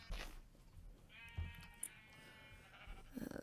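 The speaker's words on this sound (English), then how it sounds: "I'm just getting my sheep organised, ready for the automatic wool farm I'll be building later." Sheep bleat in the video game Minecraft, a drawn-out wavering bleat in the middle with shorter bleats and soft clicks around it, fairly quiet and without speech.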